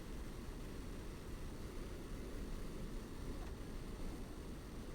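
Jet aircraft flying in The Crew Motorfest racing game, a continuous roaring engine rush with dense broadband noise that holds steady and fairly loud throughout, with no talking.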